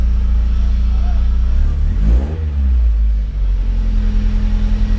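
A Mazda Miata engine idles steadily with a deep rumble, then revs briefly as the throttle is blipped and settles back to idle, heard up close with some talk.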